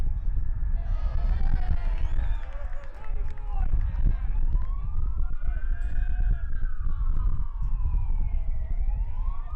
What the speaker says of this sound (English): A lot of emergency action around the ballpark tonight if you are getting blasted by sirens.